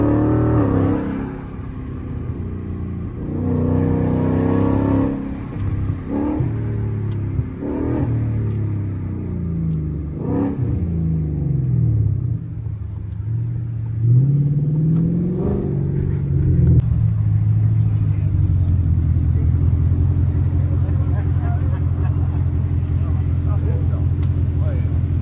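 A Ford Mustang engine revs hard through a downshift with a series of sharp rising and falling blips, then settles into a loud, steady low drone.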